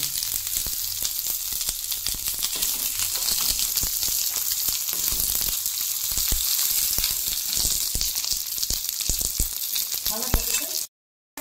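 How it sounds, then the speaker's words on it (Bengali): Steady sizzling of food frying in a pan on low heat, with occasional stirring scrapes, close and continuous, ending abruptly in silence. "কম আঁচ করে ভাজছি"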